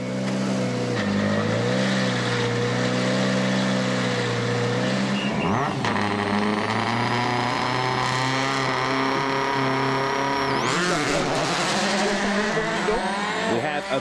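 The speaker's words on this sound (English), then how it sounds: "Sebastian Loeb in the stylish new Citroën colours is about to get us underway." A Citroën World Rally car on a wide, sweeping tarmac stage in Cyprus's Troodos Mountains in 2009, its engine loud and continuous, revving through the gears with sharp pitch shifts and brief tyre squeal, heard close without talk.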